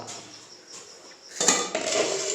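Fish curry being served out of a pot with metal utensils, a few soft scrapes followed by louder clattering and clinking of spoon against pot, close by and without speech.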